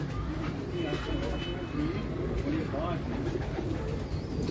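Pigeons belonging to Abdullah Khan coo in repeated low, throaty calls, close by, over a constant background murmur.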